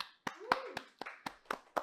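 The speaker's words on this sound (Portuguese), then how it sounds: "eu gostaria de convidar você a poder aplaudir a ele" Applause for a guest on a podcast: seven or eight sharp, separate claps in an even rhythm, close and fairly quiet, with no talk.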